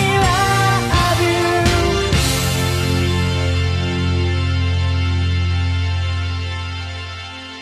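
A 1995 rock single plays loudly as full-band music, with dense strummed chords and a sustained final chord fading out at the end.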